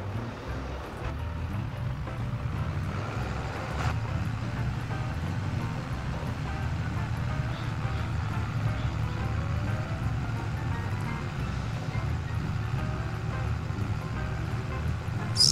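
A steady low tractor engine drones from Farming Simulator 22, running at an even idle the whole time with no talk over it.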